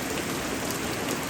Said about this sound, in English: It has really rained heavily here.